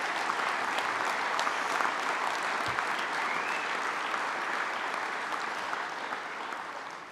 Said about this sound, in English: Could I have a round of applause for those people that work every day for your benefit?